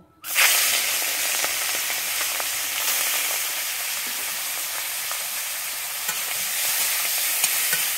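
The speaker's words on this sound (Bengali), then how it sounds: "আমি কড়াই তেল দিয়ে দিয়েছি, আমার তেলটা গরম হয়ে গেছে। আমি এবারে চিংড়ি মাছগুলো ভেজে নেব।" Prawns hit hot mustard oil in a wok and a loud, steady sizzle starts at once and holds for several seconds, close by with no voices.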